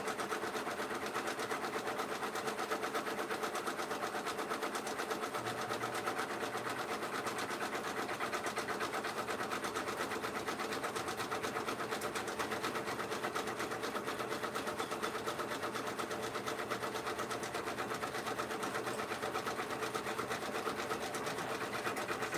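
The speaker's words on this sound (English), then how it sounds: "Waiting for the head clean to stop, and then I can go ahead and print the next design." A shirt printer runs a head cleaning cycle, producing a faint, continuous mechanical whir and hum with a low pulsing tone that holds steady throughout.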